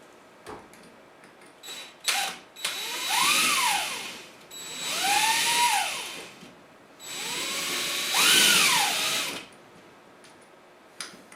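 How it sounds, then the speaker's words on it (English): Power drill with a 1/8 inch bit drilling out a socket rivet over a scrap of wood, three whining bursts that rise and fall in pitch, separated by short pauses. "I will use a 1/8 inch drill bit to drill it out."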